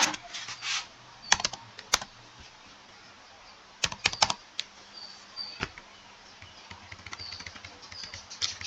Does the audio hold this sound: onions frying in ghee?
no